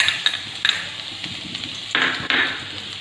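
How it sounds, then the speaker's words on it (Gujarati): Garlic goes into hot oil in a kadai and sizzles softly, with a few metal spoon clinks and stirring scrapes, close and fairly quiet. "તેલ ગરમ થઈ ગયા બાદ આપણે તેમાં લસણ ઉમેરીશું"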